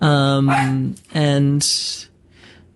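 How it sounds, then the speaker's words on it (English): A dog barks twice in short, loud bursts up close, each followed by a brief yelp, with a person talking over and between the barks. "That's my dog."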